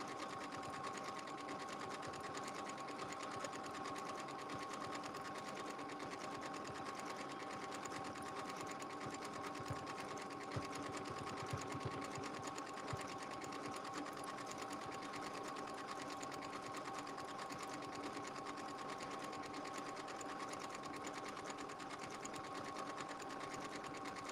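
A domestic sewing machine runs steadily and continuously, stitching decorative stitches on a quilted Valentine's Day project, with a constant mechanical whir and hum throughout and no talking.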